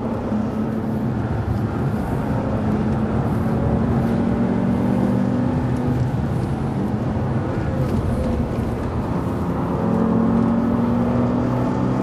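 A Bentley Continental Supersports drives on a hilly road, braking hard and changing direction. A steady, loud engine and road hum holds throughout, with faint shifts in pitch and no voices.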